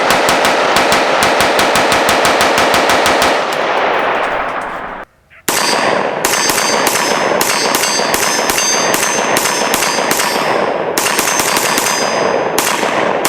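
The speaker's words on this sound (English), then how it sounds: "you just want to blast those rounds" A CMMG Dissent MK57 fires 5.7x28 rounds in loud, rapid bursts of sharp shots, with a brief pause before more fast strings of fire, some ringing metallic echoes after.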